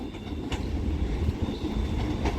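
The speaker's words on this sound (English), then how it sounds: "those two double London North Western Railway 350s terminating" London Northwestern Railway Class 350 electric multiple units arriving at Crewe on the West Coast Main Line rumble steadily with low wheel and traction noise and faint clicks, loud and continuous, with no voices.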